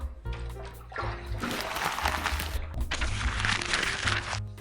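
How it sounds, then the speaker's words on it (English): Tap water runs and splashes in a bathroom sink while a razor is rinsed after wet-shave face prep with Voskhod blades, a steady close rush broken by a short pause and uneven splatter. "Okay, let me rinse this off."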